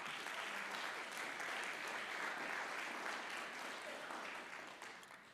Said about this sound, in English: I just want to give a big thank you and round of applause